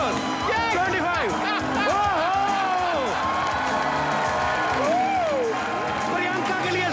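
A television comedy studio audience cheering, whooping and clapping, with loud excited voices shouting and sliding up and down over a busy crowd roar throughout.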